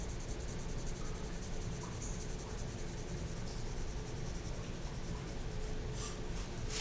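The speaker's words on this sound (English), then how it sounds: "We're just simply using a regular old pencil to do our shading." A regular pencil shading on paper gives a steady, close scratchy rasp that continues without break, soft and even throughout, with no talking.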